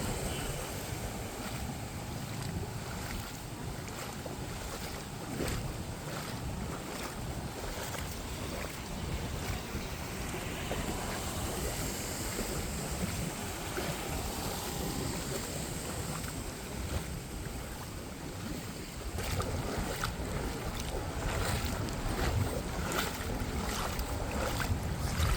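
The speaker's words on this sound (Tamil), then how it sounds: "வெள்ளம் தான் கூட அடிக்குது." Floodwater rushes along a street at night in Nallur, a constant close rushing wash with rough buffeting wind-like noise that holds steady throughout, with a slight shift near the end.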